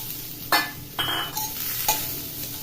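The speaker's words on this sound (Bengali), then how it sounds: "রসুনটা এখানে ভাজা হচ্ছে" Chopped garlic and a green chili frying in hot oil, a close sizzle punctuated by three or four brisk scrapes of a spatula against the pan.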